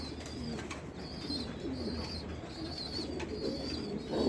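Soft, repeated cooing of a pigeon, a few low rolling calls at a gentle distance over quiet background hiss.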